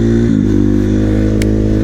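Street-legal supermoto dirt bike engine idling steadily up close, a low droning rumble with a brief rev blip near the start and a short mechanical tick later, no voices.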